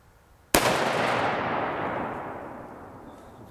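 A .308 Winchester rifle loaded with 150-grain Hornady Superformance SST fires once into a test block outdoors. The single loud crack is followed by a long, slowly fading echo, and no one speaks.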